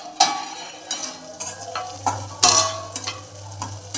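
Masala-stuffed bitter gourds turned over in a frying pan, several sharp spatula scrapes and clinks at irregular intervals over a soft sizzle, close up with no talking.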